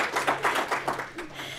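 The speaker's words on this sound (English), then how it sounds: "So please give them a round of applause just for getting up here." Audience applause at a county conservation and environmental awareness speaking contest, a short burst of scattered hand clapping close by that fades slightly toward the end.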